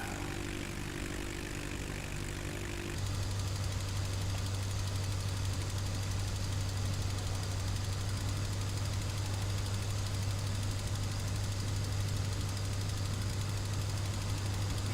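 Light aircraft engine in a flight simulator, flying from Gary/Chicago International toward Michigan City Municipal, throttling up for the takeoff roll: a steady loud propeller drone with a strong low hum that jumps in level after three seconds and holds unbroken.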